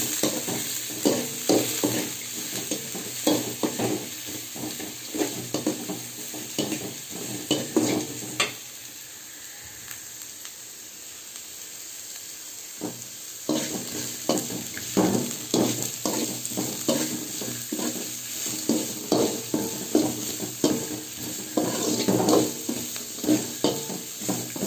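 Carrot, capsicum and onion stir-fry for vegetable noodles in a hot pan: a steady sizzle with repeated scraping stirs, dropping to a quieter simmer for a few seconds midway before the busy stirring resumes.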